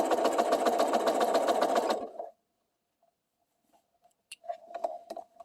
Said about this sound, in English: I stitch all the way till I get to my 1/4